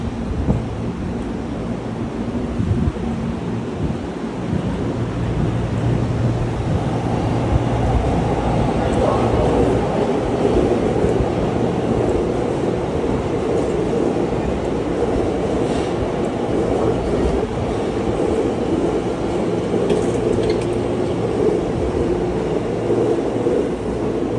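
A New Red Arrow express train rumbles past steadily and loudly for a long stretch, with a low roar and wind buffeting throughout.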